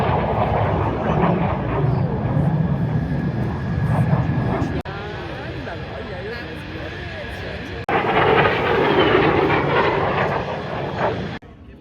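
A fighter jet roars past at an air show, its loud engine noise filling the whole stretch and swelling again near the end, with spectators talking beneath it.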